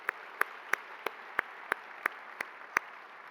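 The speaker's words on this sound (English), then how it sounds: "Let's give them a round of applause." Slow, evenly spaced claps, about ten sharp isolated hits roughly a third of a second apart, honor the sponsors at an awards dinner, heard against a quiet room hum.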